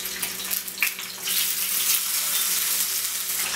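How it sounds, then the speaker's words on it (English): Steady hissing sizzle of salmon searing in a hot pan, with a few crackles at first, then an even, continuous spitting sound up close. "So we're gonna let these sizzle for a few minutes."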